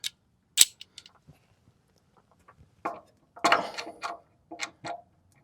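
Ratchet tightening motor mount bolts on a Honda Acty, heard as sparse clicks and short bursts of rapid ratcheting separated by quiet gaps, close by and moderately loud.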